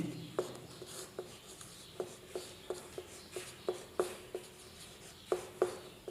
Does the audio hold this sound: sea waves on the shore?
no